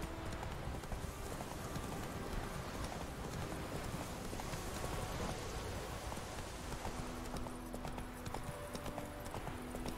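The horse Roach in The Witcher 3 moves with continuous clip-clop hoofbeats under a dense game soundscape that sounds like steady rain, loud and unbroken throughout.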